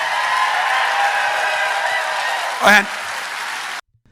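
An audience applauds in a sustained, dense wash of clapping that carries steadily for several seconds before cutting off abruptly, with a brief spoken word breaking in near the end.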